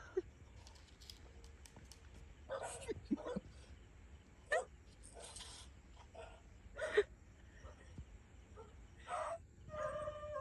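Dogs bark outdoors in short, scattered bursts, fairly faint and distant, against a quiet background with some light movement noise.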